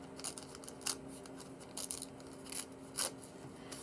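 Paper tears slowly by hand in a quiet room, giving a series of faint, short ripping bursts at irregular intervals, close to the listener.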